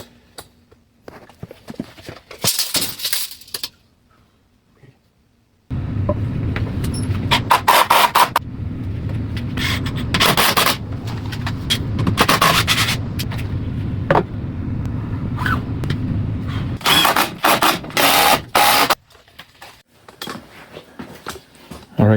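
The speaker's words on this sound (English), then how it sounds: "so now we're gonna cut to height the stud." A wooden stud is cut to height while building a furnace and laundry enclosure. Loud bursts of power-saw cutting noise come in several runs, broken by short gaps, some handling clatter and faint talk.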